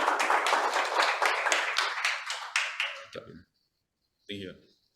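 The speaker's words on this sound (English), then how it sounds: "can we give a big round of applause, ladies and gentlemen," Clapping from an audience at a training event as a guest is welcomed; a few seconds of distinct, fairly sparse claps that taper off, followed by a short pause and a brief burst of voice.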